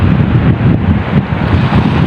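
A low, steady rumble of sea and surf at the shore, heavily buffeted by wind against the microphone, with no voices.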